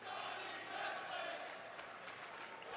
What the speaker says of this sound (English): Very vocal crowd, however, cheering for Johnny Wrestling to start things off.